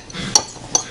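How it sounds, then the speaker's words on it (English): Eggs going into a bowl of potato salad, with two light clinks of a utensil against the bowl about half a second apart, close and fairly quiet. "The eggs, I'm gonna add them right now."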